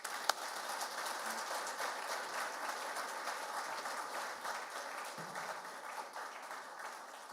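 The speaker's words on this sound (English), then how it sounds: "Please, a round of applause one more time" Audience applause at an investment conference in Ndola, a continuous patter of many hands clapping at moderate, fairly even loudness, heard from a slight distance and without speech.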